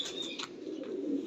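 Golden pigeons with green pearl-like markings and black feet cooing together in a loft, a steady low murmur of overlapping coos running throughout with faint higher chirps above.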